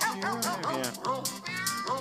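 A novelty Christmas recording of barking dogs in which rapid yips and barks pitched to a melody bounce along in quick rhythmic succession, loud and close.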